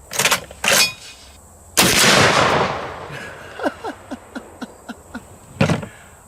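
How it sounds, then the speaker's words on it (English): A .50 caliber armor-piercing incendiary tracer round strikes an adjustable dumbbell: one loud, broadband blast at about two seconds that rolls off into a long rumbling decay, with a few sharp bangs before it and a string of faint, evenly spaced clicks and taps afterward. "I say we hit it one more time with the 50. Armor-piercing incendiary tracer."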